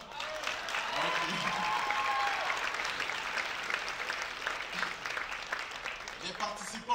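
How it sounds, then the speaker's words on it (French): Audience at a college stage performance event gives a long, dense round of applause, steady and full throughout with a few voices mixed in. "Ça fait un tonnerre d'applaudissements pour ça quand même"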